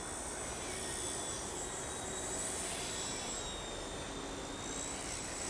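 A WLToys V911S toy RC helicopter flies nearby, giving a steady high whining rotor and motor buzz that holds at an even loudness throughout with no voices.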